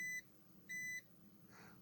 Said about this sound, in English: if we get our meter in continuity beep beep mode